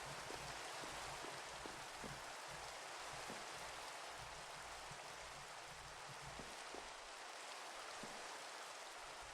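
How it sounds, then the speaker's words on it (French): Rain in a forest in a horror video game, a constant dense hiss of falling drops with scattered louder raindrop taps throughout, steady and even with no voices. "Il pleut."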